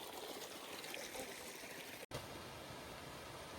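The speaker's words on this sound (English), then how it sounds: "it's a stream in the middle of a ridge" Small stream flowing in the middle of a ridge on the Appalachian Trail in Massachusetts during rainy weather: a faint, steady trickling wash with one brief cut.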